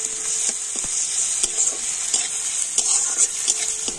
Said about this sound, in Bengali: এখন আমি সমস্ত কিছু একটু হালকা লাল লাল করে ভেজে নেব